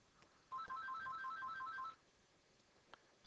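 A phone ringtone plays a quick repeating electronic melody of bright beeping tones for about a second and a half, then cuts off, leaving a quiet background with a faint click afterward.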